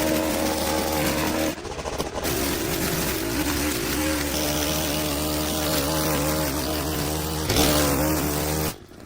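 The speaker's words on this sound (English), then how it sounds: "We're going to use the line trimmer now on this cow food because the lawnmower is struggling a lot." A line trimmer cuts through an overgrown yard, its engine droning loudly and steadily with a high buzzing whine, dipping briefly twice as the throttle eases before revving back up.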